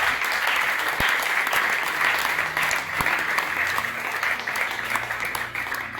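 Continuous applause from a congregation fills a church prayer vigil, dense and sustained clapping close by for several seconds, with faint voices mixed in beneath it.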